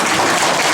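Applause from an audience at a stage event, a steady dense wash of clapping that fills the whole moment without any break.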